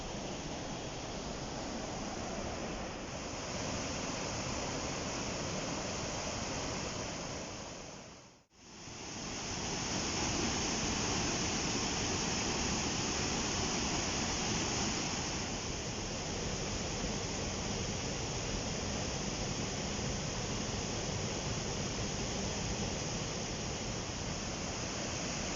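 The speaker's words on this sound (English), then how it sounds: "I'm coming up to the first big waterfall." A steady, dense roar of rushing water fills the recording, constant and loud, from a large waterfall heard nearby at Ingleton, with a brief dropout partway through.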